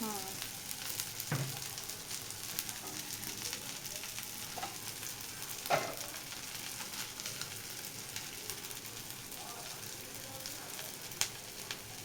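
Onion, green chili and tomato frying in a pan give a steady, moderate sizzle throughout, with a few brief clinks and stirring knocks over the constant crackle.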